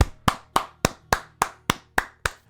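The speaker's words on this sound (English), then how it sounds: "Now, round of applause for General President Assimi Goïta." Ten sharp, evenly spaced hand claps ring out one by one in a steady rhythm, close and loud, at a livestreamed celebration honoring Mali's military and General President Assimi Goïta.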